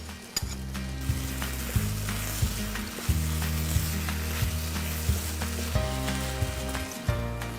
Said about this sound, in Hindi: ये पोर्चनी मशरूम जो कि हमने चॉप करके रखे थे, इसको हम रिज़ोटो में डालते हैं